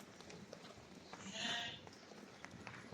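A single bleat from one of a flock of 30 young female breeding lambs rises briefly in the middle, clear but not loud, over quiet outdoor farm background.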